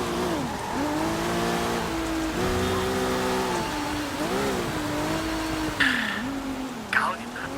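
A car drives in the video game Sleeping Dogs, its engine droning and shifting pitch up and down as it speeds along, with a couple of brief sharp noises near the end.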